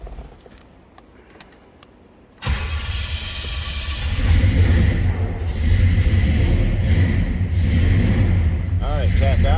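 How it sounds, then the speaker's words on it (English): A 1966 Pontiac GTO with a 400 under the hood cranks quietly, then catches and fires abruptly, settling into a loud, steady low rumbling idle that swells slightly as it warms up. "I think we should fire this up, see how it runs"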